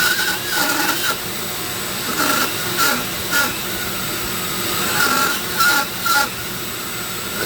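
A Dremel rotary tool cuts into a cherry wood pumpkin, giving a steady high whine that dips and surges in short bursts as the bit bites into the wood, close and continuous.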